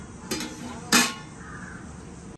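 A lid goes onto a pot of tapioca and beef tripe simmering with coconut shell: two sharp metallic clanks about half a second apart, close and fairly loud, over a low steady background hiss.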